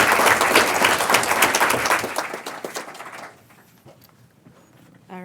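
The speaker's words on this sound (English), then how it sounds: "everyone saw how our friends in the front clapped so excitedly" Audience applause at a school board of education meeting, a dense wash of clapping for about three seconds that thins out and fades to near silence, with a brief faint clatter at the end.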